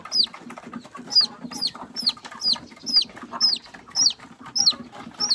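Chickens in a coop give a rhythmic series of repeated clucks and squawks, about ten calls spaced evenly, close and clear over low background noise.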